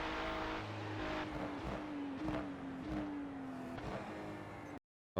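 Ferrari 296 GT3 race car engine in the iRacing simulator at Summit Point Raceway, loud and continuous as the revs drop in steps through quick downshifts under braking, then a brief cut to silence.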